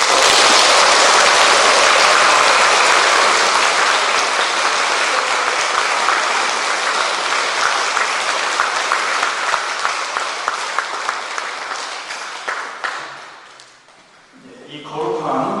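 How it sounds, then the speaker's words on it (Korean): A church congregation at an Easter Vigil Mass applauds loudly for many seconds in a dense, sustained burst, which fades away until a voice begins speaking near the end. "찬성과 함께 큰 박수를 보내드립시다"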